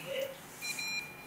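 Short electronic beeps from a keypad or device in Resident Evil 2, several brief tones at mid and high pitch over a quiet game background.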